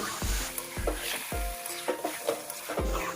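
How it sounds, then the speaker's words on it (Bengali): Chicken being stirred and sautéed in a pan of methi chicken: a spatula scrapes and knocks against the pan in repeated strokes over a steady sizzle, close and moderately loud, with no talking. "এখন মাংসটা ভালো করে কষিয়ে নেব।"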